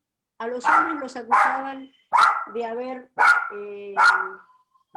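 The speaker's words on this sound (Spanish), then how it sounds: "me distrae este perro" A dog barks repeatedly in short bursts close to the microphone, mixed with someone speaking Spanish who keeps talking through the interruptions.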